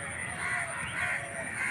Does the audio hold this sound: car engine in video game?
no